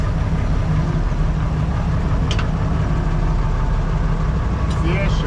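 A tractor drives with a slurry mixer at a slurry pit, its engine giving a steady, loud rumble throughout, with a brief remark spoken over it.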